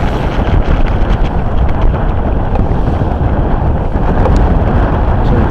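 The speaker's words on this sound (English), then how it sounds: "See, we get offshore, it's quite a breeze." A steady offshore breeze of about 18 knots buffets the deck of a research vessel on a bird survey at West Mersea, a loud continuous roar of wind noise with no voices.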